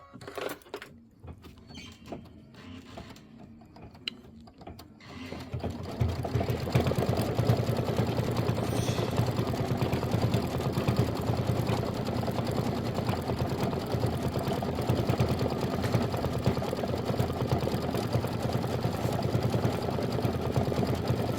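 A Kimberbell embroidery machine stitches the decorative outline of leaves 1, 3 and 7 on a Thanksgiving wreath pillow design, starting after a quiet pause and then running as a loud, steady, continuous mechanical whir without talk.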